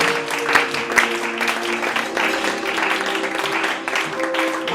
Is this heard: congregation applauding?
yes